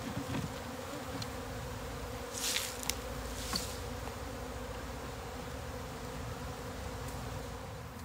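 Honeybees buzz continuously around a hive being split, a dense steady hum close by with a few louder passes as bees fly near, no voices.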